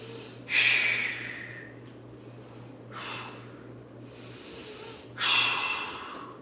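Steady, deep breathing of a person holding a one-legged yoga balance pose: three forceful nasal exhales spaced a few seconds apart, close and clear, with quiet background between them.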